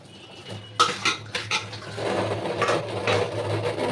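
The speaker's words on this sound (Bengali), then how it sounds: "দেখতেই পেলে কতগুলো বাসন মাজতে" Dishes being scrubbed and washed by hand, with clinks and clatters of pots and utensils in the first half, then a steadier rubbing and splashing wash nearby.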